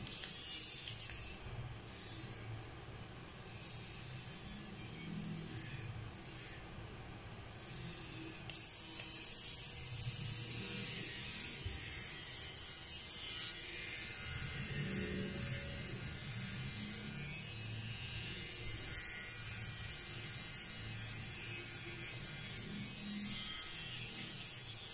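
An electric hair remover shaver buzzes steadily up close. A quieter, shifting hum in the first seconds jumps to a louder, brighter motor whine that holds to the end, with no speech.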